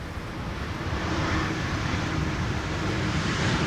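An Airbus A340-600 airliner, 21 years old, arriving on runway 18R at Schiphol gives a steady, loud broadband roar that holds level throughout, with no talk.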